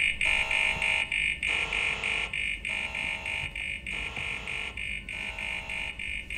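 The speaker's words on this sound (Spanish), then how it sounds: "Esta es la alarma que hemos activado antes." An alarm in the sci-fi survival game Alien: Isolation, a loud electronic tone pulsing on and off in a regular rhythm about once a second, heard alone over a low hum.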